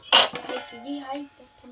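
A metal plate is pulled out in a home kitchen, giving a sharp clattering clink and a couple of smaller rattles, followed by nearby voices talking.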